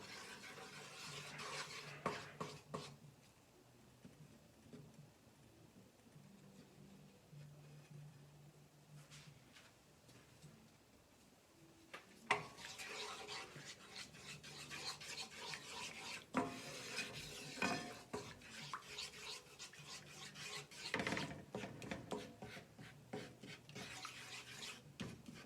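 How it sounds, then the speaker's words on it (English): A spoon scrapes and rasps around a pot as flour and fat are stirred into a roux for seafood gumbo, irregular bursts of scraping and rubbing with short pauses, close and quiet, with no talking. "we're going to continue stirring it throughout the process until we combine it really, really good together"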